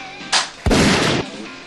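A short burst of gunfire from the video game Metal Slug: a sharp shot followed by a louder, longer blast, with no voices.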